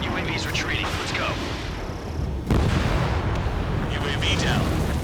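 A drone shot down in the jet combat game Ace Combat 7 bursts into a loud, close explosion that rolls into a sustained roar over a continuous jet engine rumble, with radio chatter faintly underneath.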